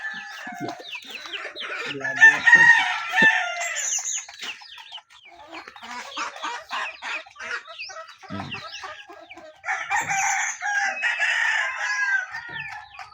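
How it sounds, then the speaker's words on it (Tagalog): Chickens cluck and squawk close by, with a rooster crowing in loud bursts, the flock noisy throughout and no one speaking. "Yan yung manok."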